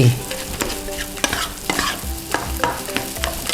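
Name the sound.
stir-frying rice with scrambled egg and bacon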